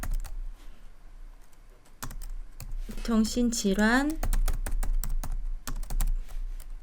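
Rapid keyboard clicks tapping steadily throughout, with a person speaking briefly over the typing midway.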